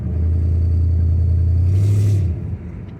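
A 305 El Camino V8 idles with a steady, loud low rumble close by, then the engine note drops and fades near the end.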